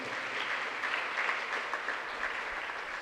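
An audience in a church during a special novena Mass for Saint Arulanandar applauds the priest Selva Jeyamani, a steady, even patter of many hands sustained for a few seconds.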